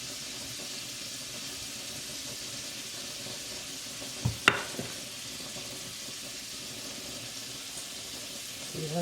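Pork chops frying in a pan give a steady, soft sizzle throughout, with a couple of brief clatters near the middle as they are flipped over.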